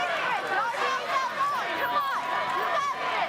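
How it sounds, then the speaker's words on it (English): Crowd at an American Ninja Warrior course chanting "Let's go, Sam", a steady, dense wash of many voices in a large arena, continuous and fairly loud with rhythmic swells throughout. "You hear that? The crowd chanting"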